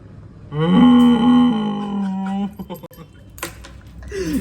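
A person gives a long, low, drawn-out moo imitating a cow, followed by shuffling and brief noises.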